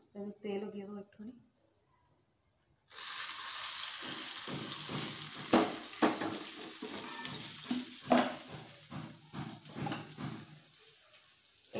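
Fish frying in oil in a kadai makes a steady, loud sizzle that starts a few seconds in and carries on with occasional stirring clatters, after a brief stretch of talk at the beginning.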